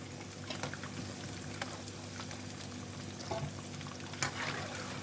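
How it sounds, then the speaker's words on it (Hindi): Fish pakora coated in gram flour batter frying in hot oil over a low flame, giving a steady dense sizzle with small pops and crackles throughout. "तो ये देखें कितनी ज़बरदस्त हमारी फ़िश जो है ना फ्राई हो रही है।"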